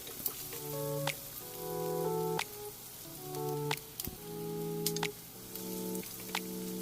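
Sliced pork, already tenderised in a pressure cooker, sizzles in a pan with onions for a cabbage dish, a steady soft hiss with a few sharp crackles over sustained background tones, no talking.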